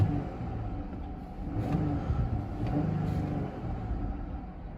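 A 2021 Chrysler Pacifica Touring minivan engine revs in moderate swells over a steady idle rumble, rising and falling a couple of times toward a limiter near 3,000 RPM, heard up close.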